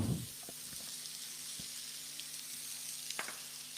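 Onion and tomato sizzle steadily in hot oil for an Indian tadka, a continuous close frying hiss with a few faint clinks and stirring taps.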